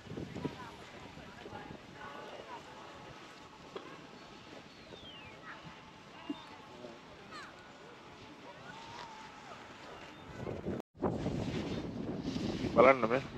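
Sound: snow cannon spraying water and blowing strong air

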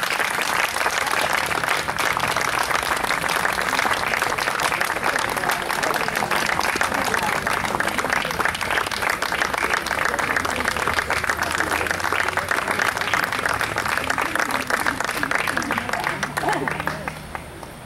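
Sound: audience applause welcoming a band

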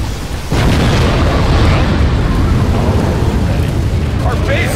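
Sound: Scud Storm missile explosions in video game Command and Conquer Generals

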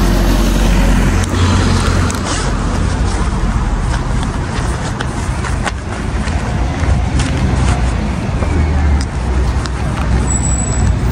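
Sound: bus arriving at bus stop

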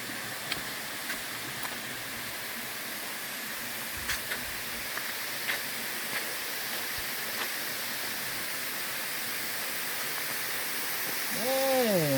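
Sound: Phiang Din waterfall flowing

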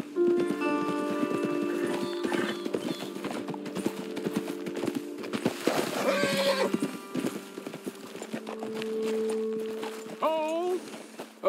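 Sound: horses trotting and neighing in a video game

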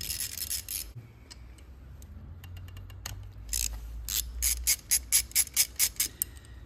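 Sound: loosening the oil cooler on a Ducati Monster 900

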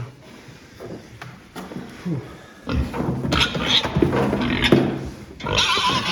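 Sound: pig on a scale

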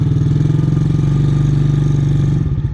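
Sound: Mikilon Hammer 125 children's quad bike engine starting off

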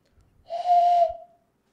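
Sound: person whistling an imitation of a bird call

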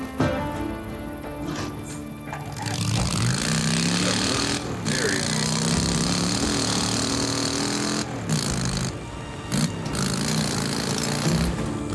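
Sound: engine starting and revving after repair, from video game Days Gone

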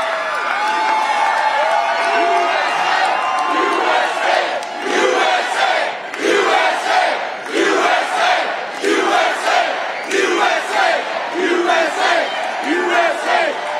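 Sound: rally crowd cheering and chanting

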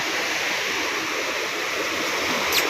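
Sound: strong waves breaking on the shore

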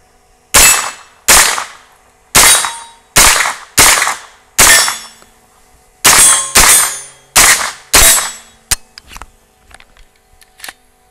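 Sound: AR9 carbine firing rounds from Glock 19 magazine at range

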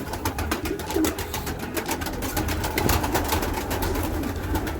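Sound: pigeons cooing while sitting on eggs

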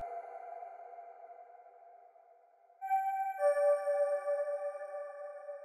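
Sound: synth innovation key sound in a beat-making program

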